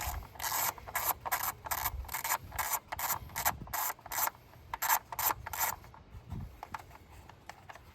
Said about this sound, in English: I'll remove each one of these bolts.